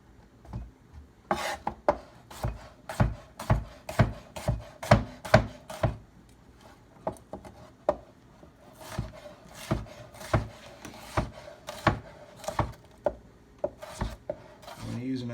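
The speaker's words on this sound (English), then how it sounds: "Using a sharp knife, you always want to take your time and, you know, cut what you're cutting" A sharp knife chops sweet pepper finely on a board. The knocks are close and crisp, coming in quick bursts of steady rhythmic strokes with short pauses between them.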